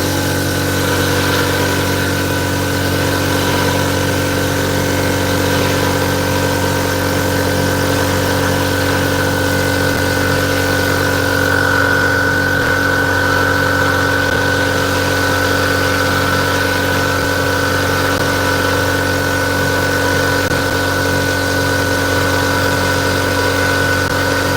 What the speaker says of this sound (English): I'm going to have to start my compressor